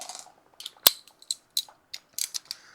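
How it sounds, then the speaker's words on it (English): Wrench loosening a tight bolt on a Harley-Davidson Sportster during a forward controls install, a close series of sharp metallic ratcheting clicks and scrapes in uneven bursts, one louder snap early on. "of course it's on there tight enough that I need the wrench."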